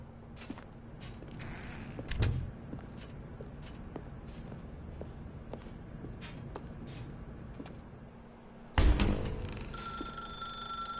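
An old-style telephone bell rings in The Stanley Parable, a faint ring near the start, then a loud, close burst of ringing near the end, with creaks and footsteps in a quiet room.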